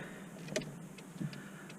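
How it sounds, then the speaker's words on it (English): Inside a 2000-2005 Chevy Impala, a turn signal relay gives two soft, evenly spaced clicks against a quiet cabin hum. "we have operating blinkers"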